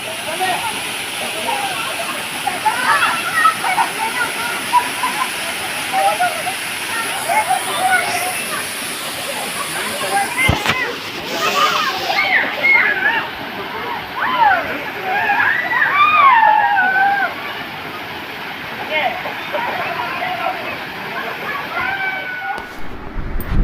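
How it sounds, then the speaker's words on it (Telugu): Rushing water from a waterfall forms a constant broad hiss under people talking and calling out nearby, with splashes and louder surges in the middle stretch. "వాటర్ ఫాల్స్ వచ్చేసిందో."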